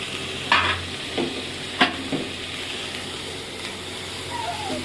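Banana flower and soaked black chickpeas being stirred in a hot pan, with several scraping spoon strokes over a constant close sizzle and no talking.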